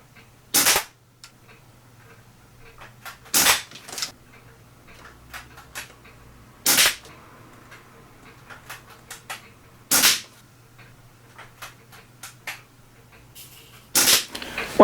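Daisy Model 98 Eagle BB gun firing five sharp, loud shots, spaced roughly three seconds apart, with a steady low hum in the quiet between them.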